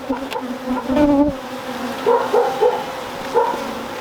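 Honeybees from a full hive drone in a steady close buzz during a brood box inspection, with some brief louder buzzing near the microphone.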